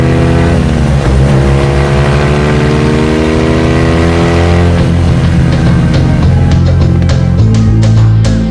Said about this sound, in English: Tout au loin, Hubert Auriol et sa BMW. La moto numéro 100 fonce vers la victoire.